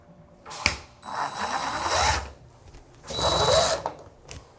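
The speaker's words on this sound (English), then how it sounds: "with them holes provided, we'll screw to make it nice and secure" Two bursts of a cordless drill or driver sending screws through the holes of PVC bath panel trim into the bath frame, each run about a second long with a whining motor, close and alone.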